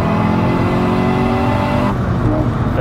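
A stage 3 Seat Ibiza Cupra 1.8 engine revs hard and loud with a dense harmonic roar, then drops in pitch toward the end, heard from inside the car on a wet road.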